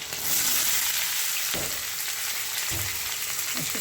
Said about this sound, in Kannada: ಜೀರಿಗೆ ಹಾಕ್ತಾಯಿದ್ದೀನಿ, ಈಗ ಒಂದು ಸ್ವಲ್ಪ ಈರುಳ್ಳಿ ಹಾಕ್ಕೊತಿದ್ದೀನಿ